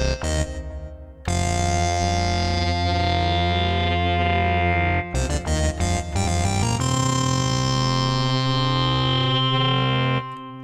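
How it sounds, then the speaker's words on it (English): An iPad MOOD synthesizer by apeSoft plays loud, sustained distorted tones with a delay effect, pitches sliding and repeating echoes layered, cutting out briefly before resuming. "Put some delay back on."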